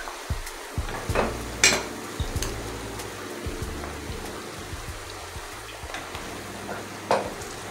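Stir-frying in a pot for Nigerian stew, with a soft continuous sizzle broken by repeated clattering scrapes and knocks of a spoon against the pot, close by and with no talking.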